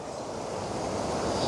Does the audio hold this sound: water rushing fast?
yes